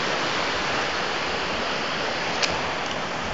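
River water flows in a constant broadband rush, loud and close, with a small splash-like spike partway through and no speech.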